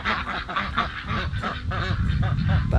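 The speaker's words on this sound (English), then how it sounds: "The ducks are definitely happy about the rain." Homestead ducks quack loudly and continuously close by in the rain, overlapping honking calls forming a busy chorus over a steady rumble of rainfall.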